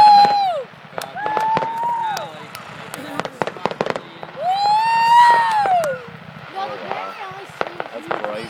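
Canada Day fireworks on July 1st in Espanola, Ontario: whistling rockets rise and fade between sharp bangs and crackles, with a crowd cheering and people talking nearby throughout.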